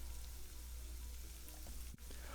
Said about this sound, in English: We're going to let it saute for 8 minutes.